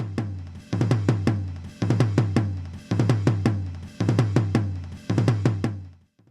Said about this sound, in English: let's listen to a rack tom